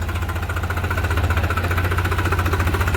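A New Holland 3630 4x4 Super Plus tractor engine runs steadily up close, a loud, even diesel throb with a rapid knocking pulse and no talk over it.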